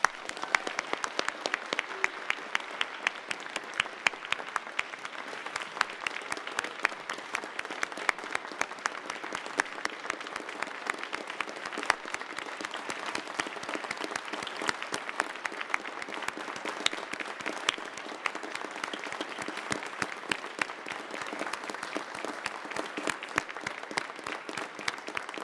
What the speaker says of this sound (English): I would like to invite you to join me once more in applauding all of our recipients